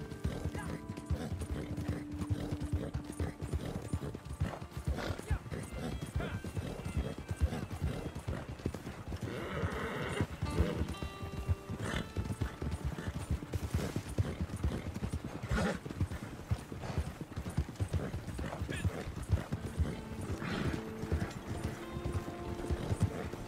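Horse hooves clip-clop in a steady rhythm in the video game Red Dead Redemption 2, continuous and moderately close, with an occasional whinny and faint mechanical rattling.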